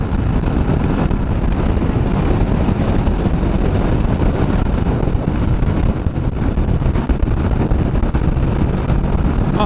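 Kawasaki Vulcan S650 motorcycle engine running steadily and loud while riding, its low rumble smeared by heavy wind buffeting on the microphone throughout.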